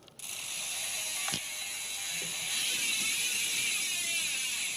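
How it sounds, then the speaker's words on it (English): Industry Nine (i9) mountain bike rear hub freewheeling with a fast, continuous high-pitched ratcheting buzz, close and steady for several seconds, with no talking over it. "Oh, listen to those i9 hubs."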